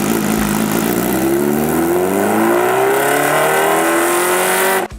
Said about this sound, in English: The supercharged 998cc inline four-cylinder engine is able to reach that hair-raising speed